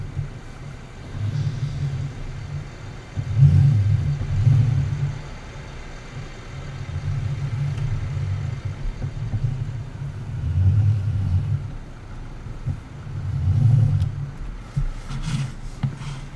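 A Farming Simulator 19 tractor engine rumbles low and steady as it drives, swelling and easing in several waves of throttle, fairly close with no talking over it.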